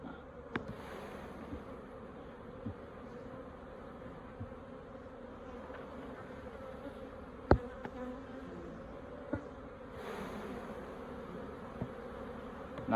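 Honey bees buzzing around an opened beehive on a frosty-morning-to-sunny-day hive check, a continuous soft hum with a few sharp knocks and clicks of frames being handled.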